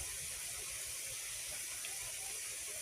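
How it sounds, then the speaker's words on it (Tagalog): Continuous bubbling and hissing of a pot boiling, a dense steady rush with faint popping, close by and unbroken throughout. "Eh, kumukulo-kulo guys."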